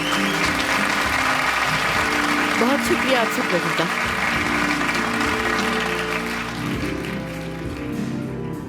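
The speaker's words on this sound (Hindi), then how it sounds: "इनके लिए बहुत सारी तालियां होनी चाहिए" Guests at an evening party applaud steadily throughout, a broad wash of clapping with speech over it and background music underneath.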